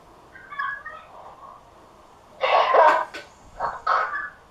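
A sneeze bursts out near the mic during a Pokémon shiny-hunting session, with a second shorter sneeze or throat noise following a moment later over faint background sounds.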